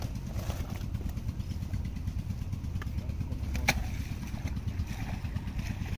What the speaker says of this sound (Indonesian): Ono ndandani diesel.